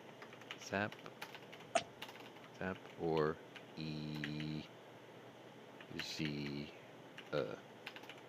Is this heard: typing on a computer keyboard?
yes